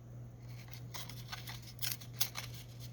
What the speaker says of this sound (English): So I'm going to tear this one.